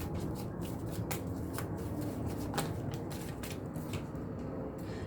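Oracle cards being shuffled by hand, a soft continuous riffling and flicking with quick papery slaps, close and fairly quiet, with no talking.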